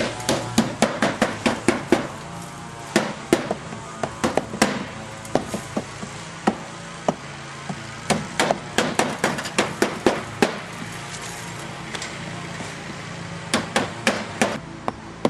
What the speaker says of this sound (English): my brother and my nephew Artie started to shingle already